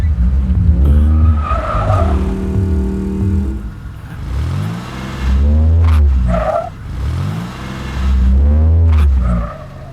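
Loud film-scene car chase with repeated tyre squeals and skidding, engines revving and roaring past in bursts, alone without talk.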